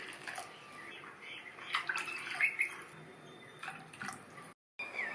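Water pours steadily into a pot of kurma with a splashing, running rush, moderately loud and continuous, with a short break near the end.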